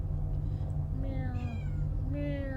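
A cat meows repeatedly close by, three or four drawn-out, rising and falling calls over a steady low background hum.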